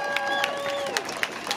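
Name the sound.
protest crowd applauding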